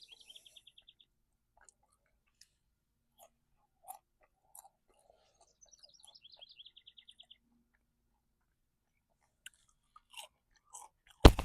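Quiet, sporadic crunching bites and chewing of deep-fried chicken with crunchy, salty skin, close to the mic, with faint bird chirps in the background and a loud rustle at the end.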